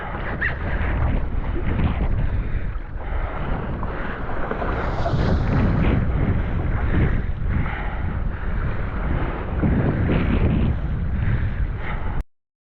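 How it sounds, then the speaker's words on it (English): Strong gusty wind roars across the microphone while parawing on open water in 10 to 35 knot winds, a loud continuous buffeting rush that surges and eases throughout before cutting off abruptly. "I need a good gust now."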